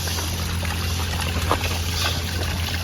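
Water runs steadily from an outdoor tap at a quiet pine-forest campsite, a continuous close splashing trickle with no pauses.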